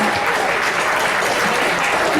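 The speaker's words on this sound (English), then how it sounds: "Give him a round of applause." Crowd applause for a pianist at a live jazz lounge performance, thick and continuous clapping from a nearby audience, loud and unbroken, with a voice faintly underneath.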